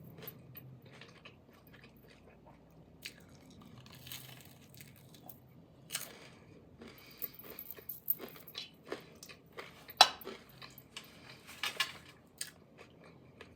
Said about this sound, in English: Just listen to this crunch.